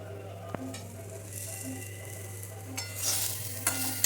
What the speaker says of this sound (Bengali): আলু হচ্ছে ভাজা